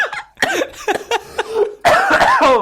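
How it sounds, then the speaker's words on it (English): Laughter and coughing come together in sharp, close bursts. Choppy voiced fits lead into a loud, harsh cough-laugh near the end. "The laugh and the cough came at the same time."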